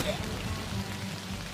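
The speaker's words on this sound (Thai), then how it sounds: "ฝนตกฟ้าร้อง" Steady, dense rain hisses throughout a short stretch of the Swamp Attack mobile game, a continuous wash with no clear thunder clap standing out.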